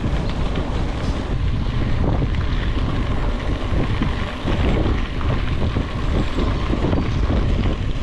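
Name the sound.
wind noise while cycling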